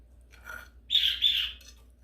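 Birds chirp outdoors in a couple of short bursts, a brief call followed by a louder two-part tweeting phrase, clear and fairly close against quiet background.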